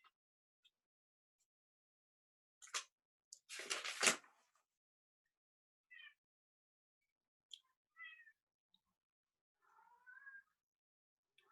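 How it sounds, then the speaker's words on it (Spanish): A house cat meows outside wanting to come in, with several short, fairly faint meows and a louder drawn-out yowl spaced apart over near silence. "Si escuchan un gato aullar es porque mi gato quiere entrar."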